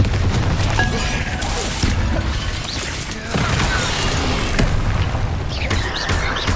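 A Confringo spell blast in Hogwarts Legacy on PS5 gives a loud, dense explosion with crashing, crackling debris that rumbles on without a break.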